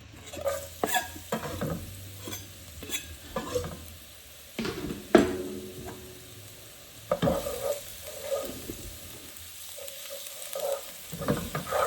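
Garlic thrown into hot oil for fish cakes fries with a steady crackling sizzle, broken by scraping stirs and clinks of a utensil against the pan, close and fairly loud with no talking.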